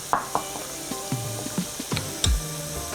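Fries frying in hot oil in a home kitchen, with a steady sizzling hiss broken by a series of sharp pops and clinks, close and fairly loud.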